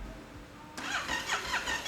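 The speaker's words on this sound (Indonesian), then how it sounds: "Oh, dengerin suara mesinnya aja. Coba kita geber." After a quiet moment, the Euro 5 engine of a Yamaha Tenere 700 World Raid motorcycle suddenly revs up, its pitch rising and falling in quick surges.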